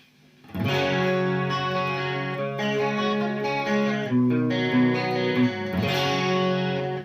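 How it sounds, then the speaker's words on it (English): Clean electric guitar chords through a Marshall amplifier ring out with a shimmering, swirling chorus effect, sustained and played alone for several seconds. "Let me just add some chorus."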